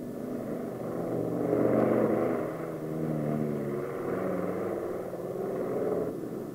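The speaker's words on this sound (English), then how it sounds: "The launching aircraft is ready to take off with the Firebee firmly secured in the wing launch" A propeller aircraft carrying a Ryan Firebee drone under its wing prepares to take off, a steady droning engine rumble that swells and eases slightly throughout, no voices.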